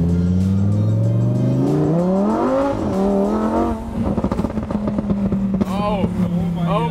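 A car with a new exhaust and engine tune accelerating hard, its rising roar climbing steadily through the gears, then settling into a loud rumbling burble with crackles, close and dominant throughout.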